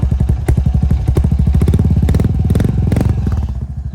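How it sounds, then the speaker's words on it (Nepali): A motorcycle engine idles nearby with a loud, rapid, steady thumping beat and some mechanical clatter. "हाम्रो बाइकको साउन्ड छ"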